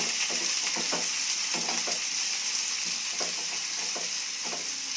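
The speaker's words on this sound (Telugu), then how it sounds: "నవ్వులకోసు ముక్కలు వేసి ఒకసారి ఇట్లా కలుపుకుందామంతా" Knol-khol pieces with onion are stirred in a hot frying pan under steady, loud sizzling, the spoon scraping the pan in repeated short strokes up close.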